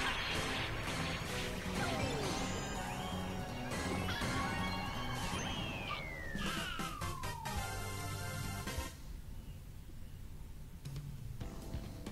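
Loud crashing and clattering as Dry Bones are smashed during a Mario Kart Tour race, with busy game effects, a descending whistle-like sweep and backing music in a steady flurry.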